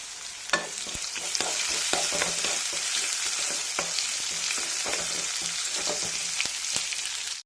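Oil sizzles and crackles steadily as chillies and curry leaves fry in a pan, with sharp pops and occasional clicks of stirring throughout, close and continuous.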